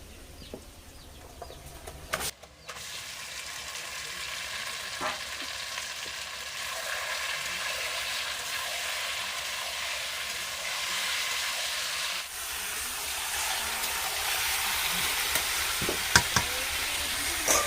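Chicken rubbed with salt and turmeric sizzles in a pan with browned onions, a steady broadband hiss that holds through the whole stretch, with a few clinks and stirring knocks.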